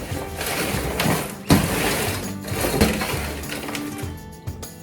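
Chocolate caramel coconut popcorn is stirred in a bowl, giving dense, continuous crunchy rustling and clinking close by, with a few sharper knocks against the bowl.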